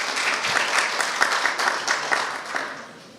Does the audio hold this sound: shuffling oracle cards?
no